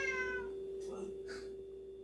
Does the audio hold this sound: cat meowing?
yes